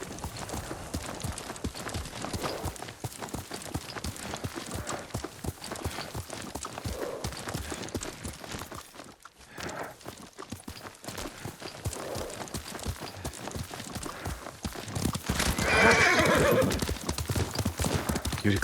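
A horse in Ghost of Tsushima clip-clops along with steady hoofbeats, whinnying at moments, while game music and ambience play underneath and a louder burst rises near the end.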